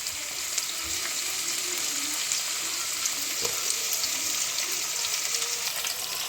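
Food frying in a home kitchen pan, a steady close hiss and crackle running throughout with faint clinks, no voices.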